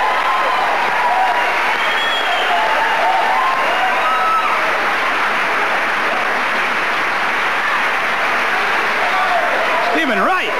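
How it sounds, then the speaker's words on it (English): Comedy club audience applauding and cheering a comedian at a 1986 HBO young comedians reunion show, a steady, loud wash of clapping with crowd noise that holds for about ten seconds. "Let's have a nice round of applause for Mr."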